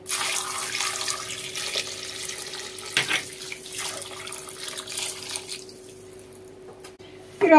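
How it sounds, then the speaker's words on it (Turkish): Water poured into a pot for soup, a steady close splashing rush that gradually thins and fades toward the end, followed by a brief clatter. "ve suyunu döküyoruz"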